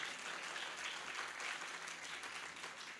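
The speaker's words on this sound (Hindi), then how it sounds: "जरा जोरदार तालियां बजाएं।" Crowd at a Hindi poetry recital in Bhopal claps continuously, a dense, even patter of many hands sustained for several seconds, heard at a moderate distance without speech.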